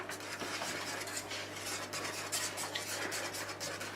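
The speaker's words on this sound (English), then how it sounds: "So you've whisked that all in" Fish pie mixture whisked in a bowl, a steady scraping, rubbing stir with light clinks of utensil on the bowl, close and continuous throughout with no talking.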